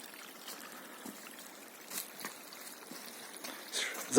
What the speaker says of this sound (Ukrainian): Бачиш, як водичка біжить, бобри запинили.